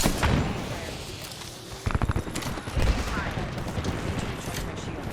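Bursts of rapid gunfire in Apex Legends, a sharp volley near the start and clustered shots around the two- and three-second marks, with players talking over the shooting.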